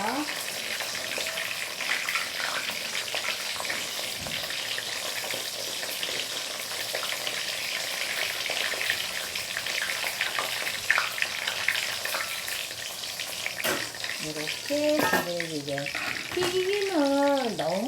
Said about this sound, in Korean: 그래서 튀김은 넣어놓고 뚜껑 덮었다가 잠잠해지면 그냥 꺼내시면 돼요